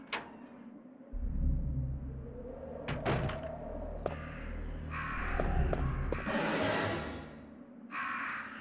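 Crows caw repeatedly in the Resident Evil video game, harsh calls arriving in bursts over a low droning game ambience with occasional thuds and clanks.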